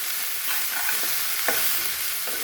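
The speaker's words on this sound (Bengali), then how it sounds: "পেঁয়াজ কুলিগুলো বেশ ভালো ভাজা হয়।" Onion kuli fry in hot oil in a pan, a continuous close sizzle and crackle with occasional soft scrapes as they are stirred, no voices.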